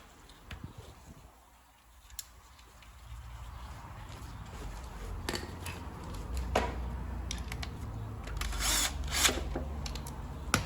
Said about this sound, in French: Je remonte premièrement le capteur de vilebrequin. C'est avec une petite vis de 10.